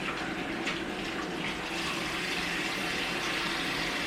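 Water runs steadily from a tap, warmed to roughly 75 to 105 degrees, rinsing a film developing tank during home colour film processing, a continuous close splashing wash with no pauses.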